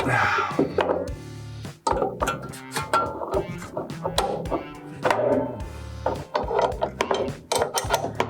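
Steel brackets being hammered up and off the arms of double bus doors during a bus conversion: loud, close, irregular blows and scraping knocks that come in uneven bursts with no pause.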